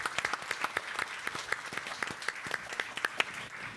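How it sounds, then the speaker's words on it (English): Modest audience applause at a panel event on postsecondary wellness, a room of people clapping in a brisk, fairly sparse pattern where individual claps stand out, heard at a moderate distance with no speech. "Can we give them a round of applause for all of the work that they're doing?"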